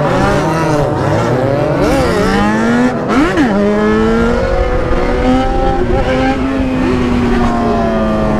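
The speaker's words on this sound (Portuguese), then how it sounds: "É grau, é três motos no grau." BMW S1000 motorcycles at a traffic light, loud and close, with repeated sharp revs and engine notes rising and falling under a continuous high-pitched roar of several bikes.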